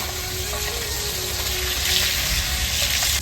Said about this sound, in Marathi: आता बघताय आपलं मस्त माझं फ्राय झालं